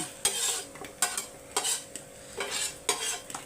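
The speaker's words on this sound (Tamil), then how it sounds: "இந்தமாரி ரோஸ்ட் பண்ணி எடுத்துக்கோங்க." Paneer roasting on a tawa with a soft sizzle, overlaid by rhythmic scraping strokes of a spatula, about six strokes in steady succession, close and clear with no talking.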